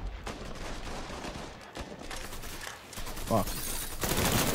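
Rapid gunfire from Mafia 3 rattles through the whole stretch, dense bursts of shots with a louder volley near the end, while a man mutters and swears over it.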